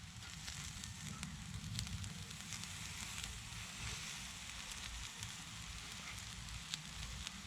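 Lamb kebabs sizzle over an open fire on a Bushbox XL Titanium stove, giving a faint, steady crackle and hiss with occasional sharper pops close by.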